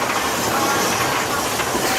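The Walt Disney World Railroad train rolls through Magic Kingdom, a continuous loud rumble with hiss and faint clickety-clack, heard from onboard with a murmur of voices in the background.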